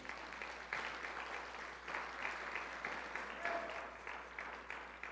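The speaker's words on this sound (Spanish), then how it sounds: "denle un aplauso al Señor" Church congregation applauding, a sustained wash of many hands clapping across the room with a low steady hum beneath and no clear speech.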